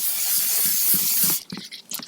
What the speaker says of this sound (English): now once this cast iron is hot-ish, spray some cooking spray